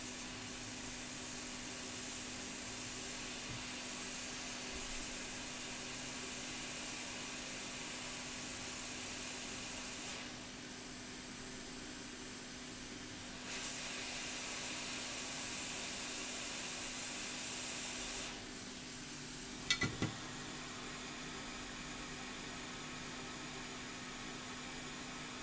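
Hot air rework station blowing onto a 2016 MacBook Pro Touch Bar logic board, board 820-00239, a steady soft airy hiss with a constant hum, shifting in level midway and ending with a couple of small clicks.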